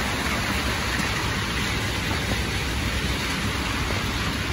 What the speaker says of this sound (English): And it's raining guys.